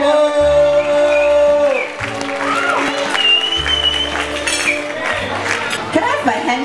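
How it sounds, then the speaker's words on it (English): Applause from a wedding crowd after a performance, with music and voices over it, then clapping continuing more softly beneath talking. "round of applause for Maybel"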